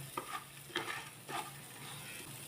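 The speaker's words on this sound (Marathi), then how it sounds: "तांदूळ आपल्याला फक्त दोनच मिनटं भाजून घ्यायचं आहे" Rice roasting in a small spoonful of ghee for rice kheer, a soft steady sizzle with a few scraping stirs at intervals, close and quiet, no voices.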